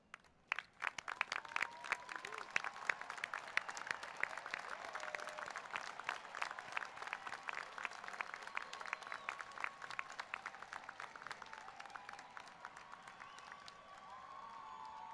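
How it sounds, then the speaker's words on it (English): A commencement audience applauds the honors graduates of a college of engineering and computer science, a dense, sustained burst of clapping from a large crowd that swells early, then slowly thins and fades toward the end. "I ask those graduating with academic and other special honors to please rise if you are able and receive our applause"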